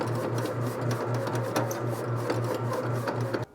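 A bread maker kneads honey white yeast bread dough in a steady, rhythmic mechanical churn with regular pulsing thumps, close and fairly loud, continuing without speech until it stops abruptly at the end.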